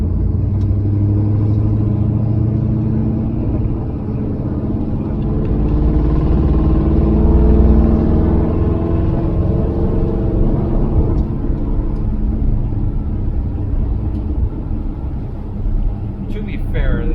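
A 1974 Dodge Charger rumbles low and steady while cruising on a road in Mexico, its engine drone sitting under ongoing conversation inside the car.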